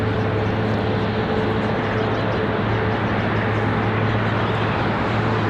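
A steady, moderately loud jet engine drone hums at Charlotte airport, with an American Airlines 777 nearby; sustained tonal whine over broadband roar, no talk.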